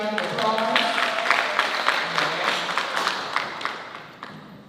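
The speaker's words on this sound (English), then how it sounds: "Let's give Tiffany another round of applause." A summit audience applauds a panelist after a panel discussion, with moderate crowd clapping that slowly fades over a few seconds, and voices faintly underneath.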